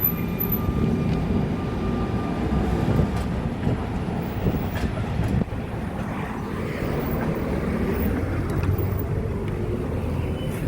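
Tram rolling along a city street beside Odesa's Privoz market, a continuous rumbling, rattling drone that stays loud and close throughout, with steady street noise and no talking.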